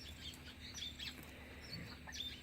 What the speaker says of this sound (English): There's lots of birds out this morning.